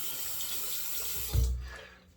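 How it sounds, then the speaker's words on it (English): Tap water runs in a sink as razor components are rinsed beneath it, a soft steady splashing with a brief thump before the flow fades out. "then we'll rinse our components of the razor."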